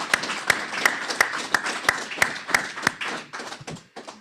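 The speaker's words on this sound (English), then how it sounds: "I think we need to give him a round of applause." A small meeting audience applauding at an annual transportation board gathering, with one loud steady clap repeating about three times a second near the microphone over softer scattered clapping, slowing and thinning toward the end.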